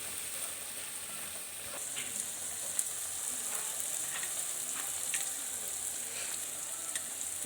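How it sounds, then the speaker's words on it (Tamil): Tomatoes sauté in a pan for a potato milk curry, a soft steady sizzle with faint intermittent stirring clicks, quiet and without speech. "இப்போது தக்காளி போட்டு இங்கே வதக்கிட்டுருக்கேன்"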